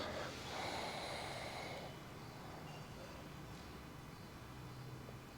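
One slow, breathy exhale through the nose, in a quiet room during a seated yoga core exercise, loudest at the start and then fading into faint room hiss.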